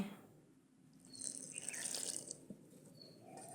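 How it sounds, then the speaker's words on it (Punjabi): Water trickles and splashes into a bowl of gram flour for a couple of seconds, a soft pouring sound with faint wet mixing noises, no voices. "ਫਿਰ ਆਪਾਂ ਪਾਣੀ ਪਾਵਾਂਗੇ ਘੋਲਾਂਗੇ"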